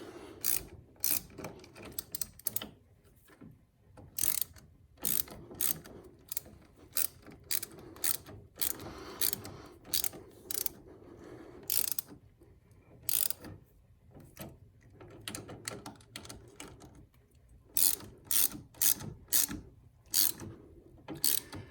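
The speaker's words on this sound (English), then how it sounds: "go ahead and tighten them up pretty tight" Bolts on a chrome brake pedal of a Can-Am Spyder F3 tightened with a ratchet: bursts of rapid clicking ratcheting, close and loud, repeated many times with brief pauses between strokes, with no talking.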